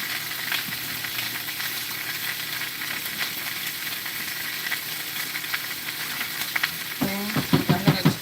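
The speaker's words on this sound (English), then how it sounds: "So I'm going to stir up my rice one more time." Jasmine rice hisses and sizzles in a hot pan as a steady crackle, then the last second or so brings louder scraping stirs with a rhythmic clatter.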